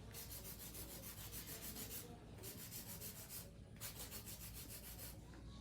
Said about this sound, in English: hand filing actually helps you create the shape of the stiletto